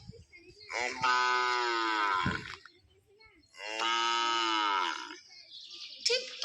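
A cow lets out two long, loud, drawn-out moos separated by a short pause, with a brief thump between them and faint background noise.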